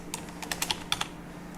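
A short burst of close, crisp keystrokes on a computer keyboard while writing C code, several quick taps then a brief pause and two more, with no talking.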